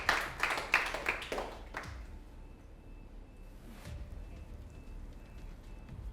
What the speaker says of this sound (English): So please give yourselves a warm round of applause